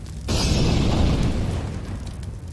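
A flashbang grenade goes off in Counter-Strike with a sudden, loud, close bang after a brief quiet moment, followed by a sustained rumbling wash that slowly fades.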